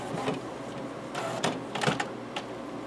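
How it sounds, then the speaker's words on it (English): The print head carriage of an HP Photosmart C-series all-in-one inkjet printer shuttles back and forth during a carriage test, making faint, repeated mechanical whirs and clicks over a low motor hum. "this is taking the print head and it's going like this, back and forth in there, you can probably hear it"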